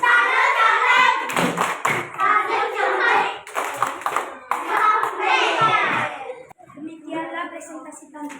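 A class of children performs the tepuk salut, a patterned rhythmic clapping routine, close and loud with bursts of clapping mixed with children's chanting voices.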